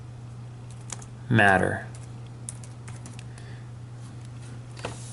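Typing on a computer keyboard comes as a few faint, scattered key taps over a constant electrical hum, with a short spoken word partway through.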